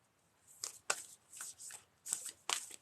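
Playing cards being shuffled in quick bursts, about six riffles with short pauses between them, close and fairly quiet, with no talk.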